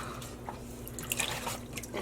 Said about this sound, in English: I'm gently removing it from the Dyebath and placing it in some cool tap water.